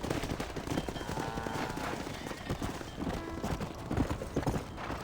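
Hoofbeats of a horse in the Western video game Red Dead Redemption, a dense, steady clatter mixed with game noise and scattered gunfire bursts, with no talk over it.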